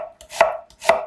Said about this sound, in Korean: 양파는 얇게 썰어 준비해 놓으세요.